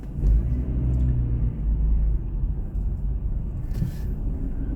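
Steady low car engine rumble from inside a vehicle moving slowly in heavy traffic approaching the A40, a continuous drone with no talking.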